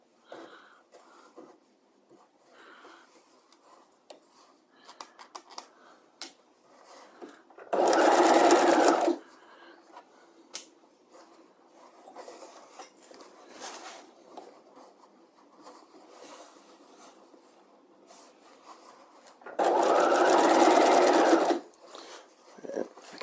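A sewing machine sets a dress sleeve into an armhole, stitching along the curve in two bursts of steady running of about a second or two each. Quiet handling sounds and some soft talk come between them.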